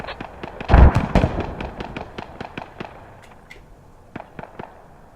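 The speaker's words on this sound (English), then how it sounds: "There's some grenades going out." Grenades bursting in a military video game: one loud, heavy blast followed by a long scatter of sharp, distant pops and cracks that thin out over several seconds.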